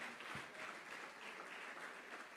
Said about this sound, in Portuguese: você pode aplaudir a Jesus aí